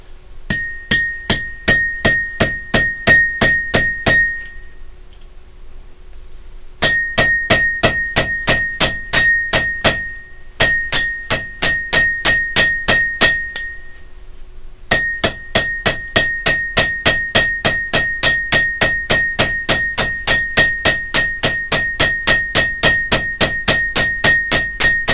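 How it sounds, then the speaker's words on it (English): A punch is hammered into a safe's foundation anchor with rapid, evenly spaced ringing metallic blows, loud and close, in three bursts separated by short pauses. "you want to take a punch and put it directly in the center of the anchor"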